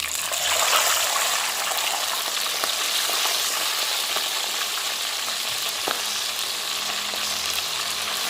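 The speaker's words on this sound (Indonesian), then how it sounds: "Oke, kita lanjut lagi gorengnya ya." Fish fries in hot oil with a loud, continuous crackling sizzle, close up, with faint pops and a brief clink near the end and no speech.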